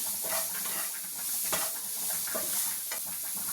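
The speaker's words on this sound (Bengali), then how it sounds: "গ্রেটেড পনির দিয়ে আরও কিছুক্ষণ নেড়ে নিতে হবে" Grated paneer being stirred in a pan as part of a paneer cutlet recipe, with a steady faint sizzle and repeated soft scraping strokes, some louder than others, and no talking.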